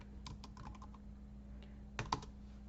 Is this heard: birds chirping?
no